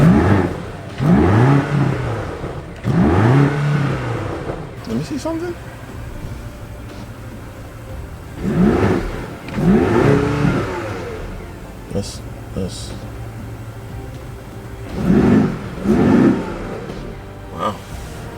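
A BMW car engine revved in a series of strong, close bursts, roughly paired and separated by idle pauses, with a person briefly speaking between revs.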